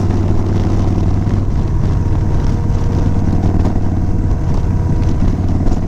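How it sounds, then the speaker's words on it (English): A long line of motorcycles rides past during a Christmas toy run group ride in Townsville, producing a steady, loud, continuous engine drone with overlapping exhausts throughout. "That is a big long line of bikes."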